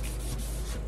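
A brief, steady scratchy rasp of 600-grit sandpaper rubbing over car paint on a 1956 Chevy, close up and fairly quiet, with no talking.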